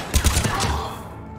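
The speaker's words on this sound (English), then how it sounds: "Who is shooting me?" Gunfire in the Mass Effect 3 video game: a quick cluster of four or five sharp shots within about half a second, then a fading tail. The burst is fairly loud against a low background.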